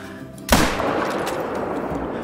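A single sharp rifle shot rings out during a video game hunt, loud and sudden, then trails into a sustained rumbling echo that fades slowly over the next couple of seconds.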